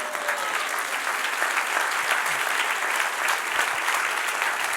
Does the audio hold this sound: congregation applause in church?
yes